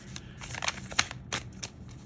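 Tarot cards are shuffled close up in a quiet room, producing several short papery riffles and soft flutters in uneven bursts.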